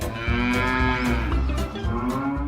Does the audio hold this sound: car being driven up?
no